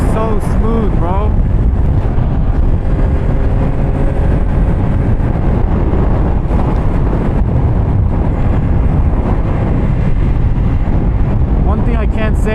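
Steady, loud wind roar and road rumble from riding a 2025 Yamaha R9 motorcycle, with the engine droning underneath throughout.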